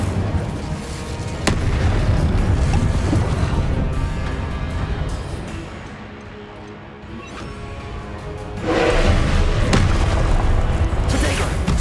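Booming fire-spell blasts in the Hogwarts Legacy game, heavy low rumbling explosions that swell, fade in the middle, then surge again loudly near the end.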